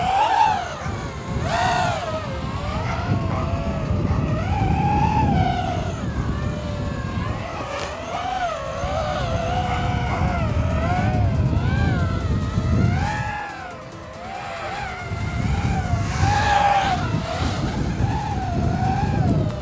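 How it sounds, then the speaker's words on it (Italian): An Eachine Racer 180 racing quadcopter flies in strong wind, its motors whining and rising and falling in pitch as it speeds and brakes, with wind buffeting the nearby microphone throughout. "Vi faccio vedere adesso, nonostante che ci sia tantissimo vento, è una roba impressionante, come anche come frenata."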